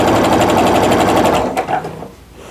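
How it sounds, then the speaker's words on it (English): Sewing machine stitching down the rest of a seam on a scrappy Christmas tree mug rug, running steadily and loudly for about a second and a half before slowing and stopping. "I'm just going to go ahead and make sure those corners are together and sew the rest of the way down"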